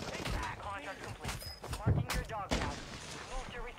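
Bursts of video game gunfire crack out in quick, uneven volleys, mixed with players talking over voice chat during an online shooter match.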